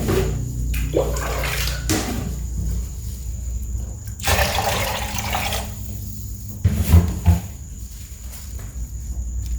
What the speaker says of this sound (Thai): ใส่น้ำแช่ข้าว น้ำก็มาค่ะพี่น้องใส่ไปเลย